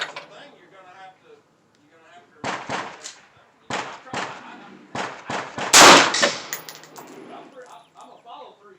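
Rifle shots with M855 green tip ammunition crack out at a range, several sharp close reports spaced irregularly, one especially loud, with people talking between them.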